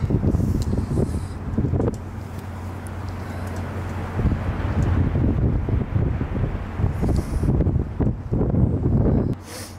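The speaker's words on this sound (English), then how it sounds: "I'm sure the wind right now is pretty shit." Strong wind buffets a microphone on top of a tall crane high above the River Thames in London, a steady roaring rush with gusty swells throughout, close and loud, with no voice over it.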